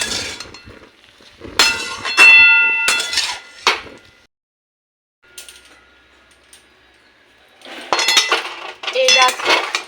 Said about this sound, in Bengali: যে কড়াটা দেখছি যে জলটা আছে সেটা ভেজে ভেজে পুরো শুকনো করে নেব শাকটাকে